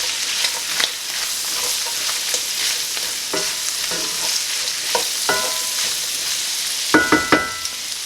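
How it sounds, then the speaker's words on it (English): Sausage stuffing with apple and cranberry sizzles steadily in a frying pan while a spoon stirs it, scraping and clattering in bursts that grow sharper near the end; no one speaks. "Give that a stir."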